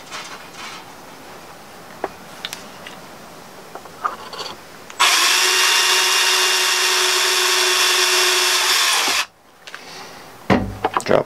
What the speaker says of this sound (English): keep it lined up while I drill the next one